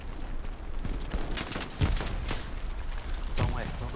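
Bursts of video game gunfire crack and thump in scattered volleys, with a few heavier booms, while voices talk underneath.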